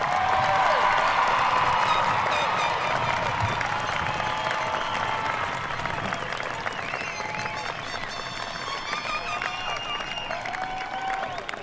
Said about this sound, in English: Let's give all our graduates a huge round of applause.